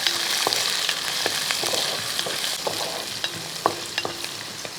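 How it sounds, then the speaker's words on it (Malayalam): Green chillies and small onions fry in oil for a mutton curry, a steady sizzle with repeated clacks and scrapes of a spoon stirring against the pan, close and with no talking. "പച്ചമുളക് ഇങ്ങോട്ട് ഇട്ട് കൊടുക്കാം കൂട്ടത്തിൽ ഒരു പത്ത് രൂപ ചെറിയ ഉള്ളി ആ ഉള്ളിയും കൂടെ അങ്ങോട്ട് ഇട്ട് കൊടുക്കും ഒന്ന് ഇളക്കി കൊടുക്കുക"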